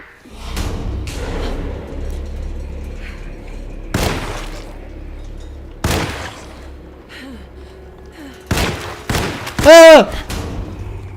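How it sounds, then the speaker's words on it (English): Gunfire in the Alone in the Dark horror game comes as sharp, separated shots spaced across a quiet, tense background, building to a cluster of rapid blasts and a loud distorted burst near the end. "I'm gonna fire some cozy bullets at them."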